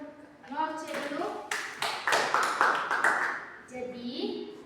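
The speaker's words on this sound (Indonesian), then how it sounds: "tepuk tangan untuk Norce dulu" A classroom of students claps briefly for a classmate, a short burst of scattered hand claps mixed with children's voices, with a teacher speaking before and after.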